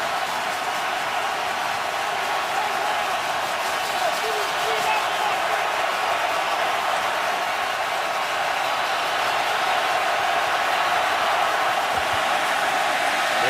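A packed home stadium crowd roars steadily at a Washington Redskins NFL game against the Giants on a third-and-long play, a dense sustained wall of cheering and noise that swells slightly and never lets up.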